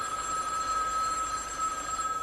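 A telephone rings in a room with a steady electronic tone that holds for about two seconds, moderately loud and without voices.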